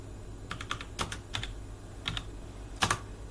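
Quiet keyboard typing as a grep command is entered in a bash terminal: a handful of separate key clicks in small bursts, close and alone, with gaps between them.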